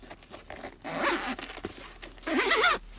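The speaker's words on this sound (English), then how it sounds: "and then you zip it up." A zipper on a Sony WH-1000XM3 headphone carrying case is pulled closed in two quick, close rasping strokes, with a brief pause between them and no talking.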